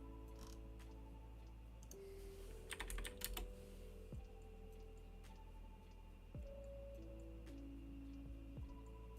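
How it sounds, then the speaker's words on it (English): Quiet, rapid clicking of keys on a computer keyboard, irregular bursts of typing heard close in an otherwise hushed room. "Keyboard sounds like ASMR."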